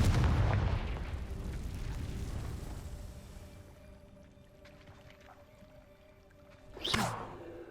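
Confringo fire-blast spell from Hogwarts Legacy: a heavy booming blast that rumbles and fades over several seconds, followed by quieter ambience and a sharp whooshing burst near the end.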